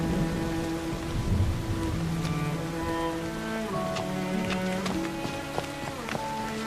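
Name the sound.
rain falling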